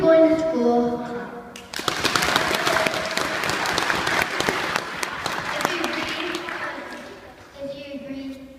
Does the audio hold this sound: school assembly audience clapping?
yes